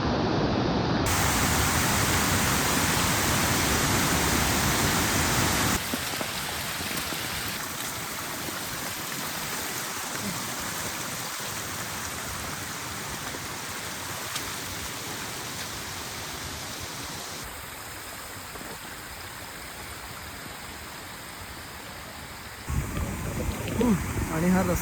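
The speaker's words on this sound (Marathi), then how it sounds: "पाऊस खूप वाढलेला आहे." Heavy monsoon rain on a road near a hidden waterfall in Palghar, a loud, steady broadband hiss that runs throughout, easing slightly partway through and swelling again near the end.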